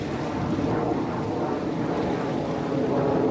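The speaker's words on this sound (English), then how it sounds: "you're always gonna hear the military planes" Military planes pass over Destin beach, a broad continuous roar blended with wind and surf, steady and loud for the whole stretch with no clear break.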